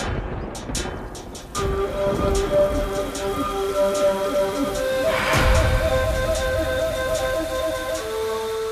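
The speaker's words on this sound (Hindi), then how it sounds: "बारिश हो रही है" Steady rain patters on surfaces close by while a low, rolling rumble of thunder builds in the middle and fades.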